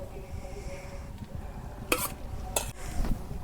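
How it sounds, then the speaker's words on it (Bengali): An omelette frying in hot oil in a village-style kitchen, a continuous close sizzle broken by a few loud bursts of spatter or scraping against the pan, with no voices. "মরিচ ছাড়াই অমলেট ভাজতেছি"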